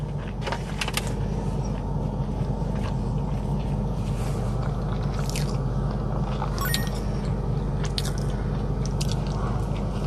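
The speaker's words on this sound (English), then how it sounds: "I'm just hanging out in my car eating Chick-fil-A" Someone eating Chick-fil-A while sitting in a parked car: repeated close-up bites, crunches and squishy chewing over a quiet, steady interior hum.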